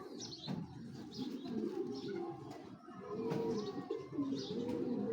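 Racing homer pigeons coo softly and repeatedly in a loft, with low throaty coos and occasional faint chirps and rustles in the background.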